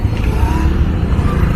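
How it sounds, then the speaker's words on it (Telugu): Busy Sunday road traffic on a Hyderabad street toward Jubilee Hills, heard from a motorcycle as a close, continuous low engine rumble with a brief revving edge. "ఆదివారం కూడా ఇంత ట్రాఫికా?"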